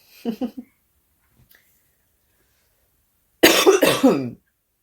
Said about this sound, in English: Yeah, coughing, not fun.